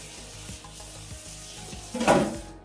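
A hot pan on the stove gives a soft, steady sizzle with faint rhythmic scraping, then a brief louder burst of hissing near the end.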